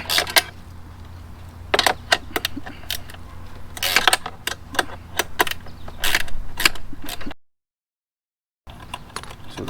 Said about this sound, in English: you have to use a box wrench. So I have a ratcheting box wrench.